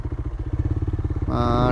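A motorcycle engine putters nearby in a narrow Kathmandu lane with a pole in the way, a steady rapid chugging pulse, and a voice breaks in near the end.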